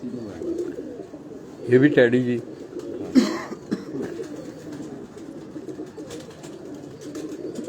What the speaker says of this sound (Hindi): अब ये एक और कबूतर है दोस्तों